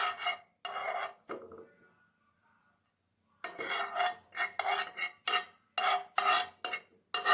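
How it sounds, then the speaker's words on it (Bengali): Sugar being stirred in a pan until it melts, heard as several bursts of scraping and rasping from a utensil against the pan, a quiet pause, then a run of quick rhythmic scrapes, close and fairly clear. "চিনিটা আমি ততক্ষণ পর্যন্তই নাড়াতে থাকবো যতক্ষণ না পর্যন্ত চিনিটা একেবারে গলে যায়।"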